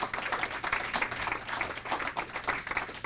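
A small indoor audience at a poetry evening claps for the student readers, a dense patter of many hands that stays fairly even for about three seconds without any talking.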